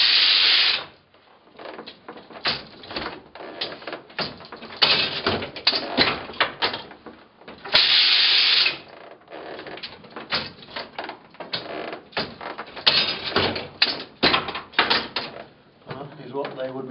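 A heavy hand-operated framework knitting frame works through its cycle of sinkers and needles, giving clustered mechanical clacks, rattles and thumps in uneven rhythmic bursts, close and fairly loud, with a voice talking over parts of it.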